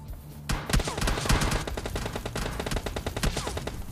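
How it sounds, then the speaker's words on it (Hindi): Rapid bursts of automatic gunfire crackle without pause, dense overlapping shots with punchy low thuds, no one speaking, in the game PUBG Lite, with bullets hitting a vehicle. "उसने आधे गोलियां मेरे में मारी, आधी गोलियां गाड़ी में मारी"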